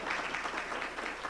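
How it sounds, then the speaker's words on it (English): Audience at a university keynote address applauds, a brief, faint, even wash of many hands clapping with no voices over it. "You can clap there."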